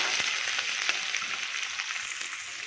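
Two large onions frying in hot oil in a kadhai, a dense, continuous crackling sizzle heard close up with light scraping, and no one speaking.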